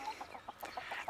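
Several backyard chickens scratching around raised garden beds give short, spaced clucks, moderately close with a soft rhythm of repeated calls over a quiet background.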